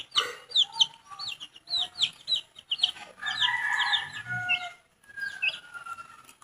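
A flock of native hens clucks busily nearby in short overlapping calls, pausing briefly before a few more clucks; no talking.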